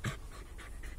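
A dog pants in quick, breathy bursts close by for about a second, in a rainy garden while it pokes a person with a wheel.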